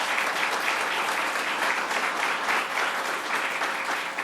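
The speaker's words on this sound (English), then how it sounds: "give them a round of applause" Audience applauding members of the Coalition to Prevent Lead Poisoning at a housing and lead exposure event with Governor Hochul; steady, dense clapping fills the room throughout without talk.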